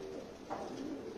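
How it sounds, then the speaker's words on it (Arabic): Pigeons coo softly in a steady, low murmur with a brief brighter call midway, in a setting where red birds and falcons are kept for sale. "هاي طيور واضحة"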